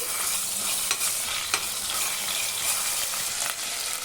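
Whole spices fry in ghee for pulao, giving a loud, dense, continuous close sizzle with occasional stirring scrapes throughout.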